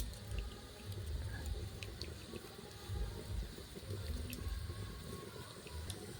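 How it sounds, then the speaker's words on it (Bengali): Lemon juice squeezed into hot water for homemade vinegar, a soft continuous watery trickle and splash with faint clinks, quiet and close, no talking. "হাফ ভাগ কিন্তু লেবু আমি চিপে দেবো এর মধ্যে"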